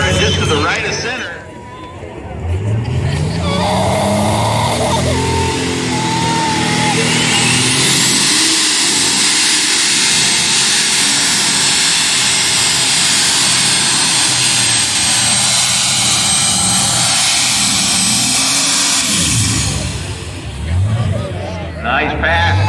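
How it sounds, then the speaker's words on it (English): John Deere 7720 tractor roaring through a tractor pull run, a loud engine rising and sustaining for about twenty seconds with shifting pitch, crowd noise and an announcer's voice underneath. "still a respectable run for that John Deere 7720, the Rutten Deere"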